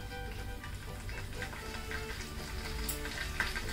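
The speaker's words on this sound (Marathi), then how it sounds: "तेल गरम झालेलं आहे, त्याच्यामध्ये आता मी मोहरी घालते" Mustard seeds and cumin sizzling in hot oil in a pan, a steady, soft crackling fry with faint pops throughout.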